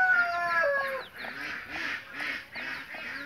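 A hen clucks alongside two newly hatched chicks, with repeated short calls and peeping close by and fairly loud, sounding alone without talk.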